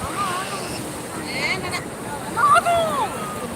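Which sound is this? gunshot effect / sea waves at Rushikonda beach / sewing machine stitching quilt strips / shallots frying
sea waves at Rushikonda beach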